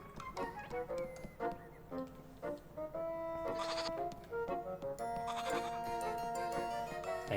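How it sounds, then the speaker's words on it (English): A goat bleats repeatedly in the video game Little Goody Two Shoes. The wavering bleats repeat close together over a busy game soundscape. "I hear goat."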